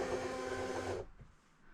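A vinyl cutting machine feeds a sticky cutting mat in through its rollers, making a steady whirring, printer-like motor drone for about a second before it stops abruptly, leaving faint low room noise.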